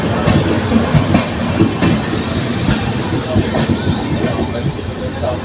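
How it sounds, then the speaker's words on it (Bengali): A Puri Superfast Express train runs on its rails as it nears Puri station, giving a steady rumbling roll with a repeated clickety-clack of wheels over the joints. Faint voices are heard under it. "আমাদের ট্রেন এখন এসে পৌঁছেছে টিলাং।"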